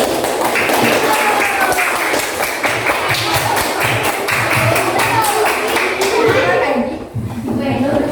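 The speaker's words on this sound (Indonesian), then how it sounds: "Kita kasih tepuk tangan terlebih dahulu." A classroom of students claps their hands together in dense, sustained applause that runs steadily for several seconds. The clapping is fairly loud and close, with some voices mixed in beneath it.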